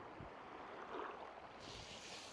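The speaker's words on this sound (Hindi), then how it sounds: "सिर्फ पानी की आवाज़ें आ रही हैं" Soft, faint wash of water gently lapping at the shore of Pangong Lake in Ladakh, heard alone as a low, steady hiss with light wind noise and no talk.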